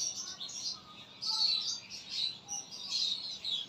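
Lovebirds chirp and tweet in a close, high-pitched chorus, with repeated bursts of calls rising and falling in steady waves and no talking.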